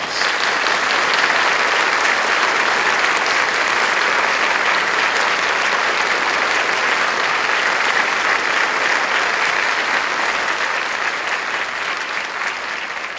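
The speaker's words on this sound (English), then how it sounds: "give her and everyone else an appropriate round of applause" Sustained, dense applause from a large audience fills a swearing-in ceremony for a state supreme court associate justice, steady and loud throughout with no pause.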